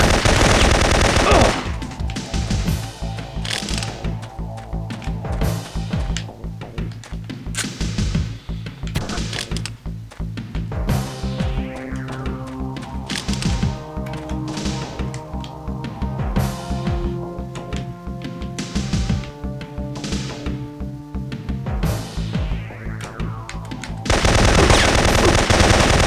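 Continuous automatic gunfire in the PS1 game Syphon Filter, a loud, dense rattle of rapid shots layered over game music and sweeping effects for the whole stretch, with no talk over it.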